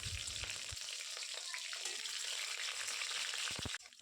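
Slit green chillies fry in hot oil with a five-spice tempering, a soft, steady crackling sizzle near the pan, with a few knocks at the start and a sharp clatter at the very end.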